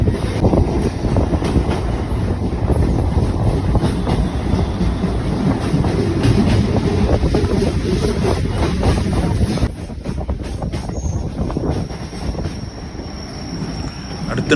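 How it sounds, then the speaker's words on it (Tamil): A Chennai MRTS commuter train rumbles steadily along the rails between stations, a loud continuous roar with wind buffeting, easing slightly toward the end. "அந்த ரயில் நிலையத்திலிருந்து அடுத்த ரயில் நிலையத்தை நோக்கி நமது ரயில் வந்து கிளம்பி போய்கிட்டு இருக்குங்க."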